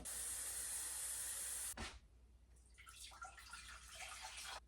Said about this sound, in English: Water on the stove.